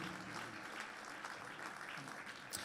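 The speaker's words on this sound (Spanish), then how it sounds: "Fuerte ese aplauso de alabanza al Señor." A church congregation claps in praise during a service, a steady, fairly faint wash of many hands that runs evenly from start to finish.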